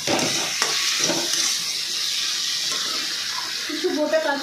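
Spiced moroła fish curry with Kashmiri red chilli powder being stirred in a pan, a steady close sizzle and wet scraping with bubbling moisture, no talk over it.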